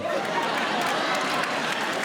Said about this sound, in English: Why are you applauding that?